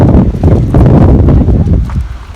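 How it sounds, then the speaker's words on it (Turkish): Heavy wind buffets the microphone in a loud, continuous rumble with gusting surges, and no voices are heard. "Rüzgar olduğu için de e, şimdiden kusura bakmayın sesten dolayı."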